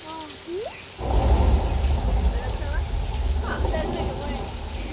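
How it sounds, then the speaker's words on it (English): Sprinklers on a studio tour spray water upward so it falls like heavy rain, the downpour starting abruptly after a second and roaring steadily alongside thunder effects, with voices heard at the start. "The rain effects, those are sprinklers shooting the water straight up into the air, allowing the water to fall down naturally to the earth, just like rain would."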